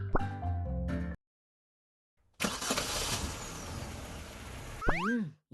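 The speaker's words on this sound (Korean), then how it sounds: "어째서 실내에서 엔진 소리가?" An engine roars unexpectedly indoors in the video game Trickcal, a rough, loud rumble bursting in after a short silence, with springy cartoon boing effects near the end and brief music at the start.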